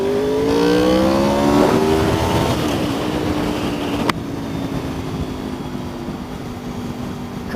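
Car engine and road noise from a drive between Balsall Common and Cubington via Kenilworth as a BMW cuts in ahead, a loud steady drone with rising engine tones, then a sharp knock and a lower, settled hum.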